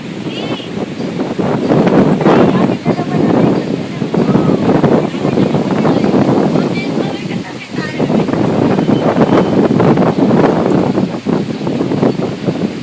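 Strong wind buffets the microphone with a constant roar on a boat ride at Nuvali, rushing and gusting throughout, with faint water and engine noise underneath.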